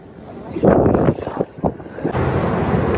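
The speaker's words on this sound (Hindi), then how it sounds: "हो सकता है काफ़ी साउंड ब्लास्ट आ रहा हो, काफ़ी तेज हवा चल रही है।" Strong wind buffets the microphone on a ferry approaching the Isle of Wight, roaring in loud gusts and settling into a steady rushing blast.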